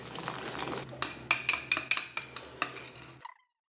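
A utensil scrapes and clinks steadily around a bowl while semolina batter with fresh yeast is mixed, with a run of rhythmic taps close up that ends abruptly, and no voices.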